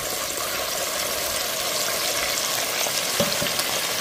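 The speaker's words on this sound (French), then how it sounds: "Laissez griller ceci pendant 5 à 6 minutes" Rice with blended braised ingredients fries in a pot for a red rice dish, giving a steady, dense sizzle throughout with a couple of brief clinks near the end.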